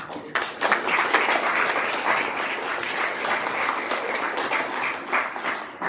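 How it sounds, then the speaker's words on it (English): Sustained round of applause from an audience at a spring Native American honoring ceremony, dense and steady clapping with a few scattered voices underneath. "I just agreed to come and I get a round of applause and everything else."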